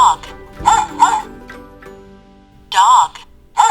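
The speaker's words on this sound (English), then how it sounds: "Do you know the sound that the dog makes? Let's listen." A dog barking in short, sharp yips and bow-wows, several clustered bursts with brief gaps, recorded close and fairly loud.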